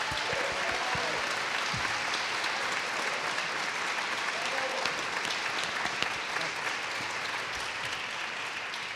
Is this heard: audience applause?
yes